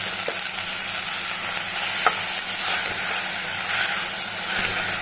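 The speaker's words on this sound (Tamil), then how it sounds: "இதையும் சேர்த்து நம்ம நல்லா வதக்கிக்கலாம்" Onion, green chili and rose petals fry in a pan for a ragi adai, giving a loud, continuous sizzle with occasional light clicks of stirring.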